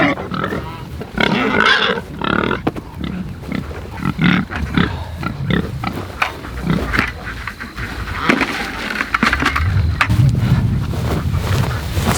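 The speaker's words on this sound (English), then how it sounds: "These hogs are freaking out." Hogs on a homestead squeal and grunt excitedly at close range, loud and continuous with wind buffeting the microphone throughout.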